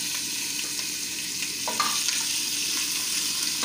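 Boneless chicken with garlic ginger paste fries in oil, a constant dense hiss of sizzling up close with a few soft stirring scrapes, no voices over it.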